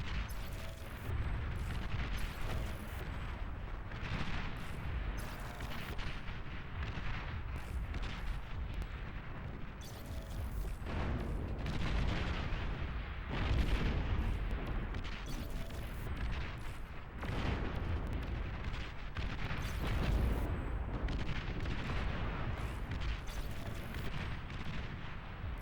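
M80 and Pitbull firecrackers go off at night in repeated loud booms and cracks. The blasts sit within a constant roaring rumble that lasts throughout.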